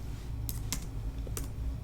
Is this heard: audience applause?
no